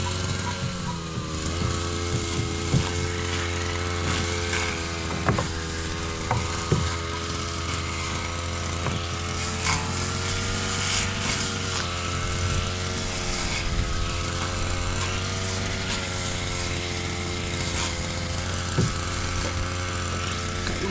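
A grass cutter running in a vegetable plot with string beans on a hot sunny day, a steady droning motor whine with slight pitch wavers, close and continuous throughout with a few faint knocks.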